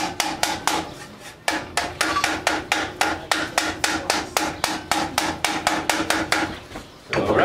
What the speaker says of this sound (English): the edges need a little bit more persuasion, so I'm going to hammer on it a little bit.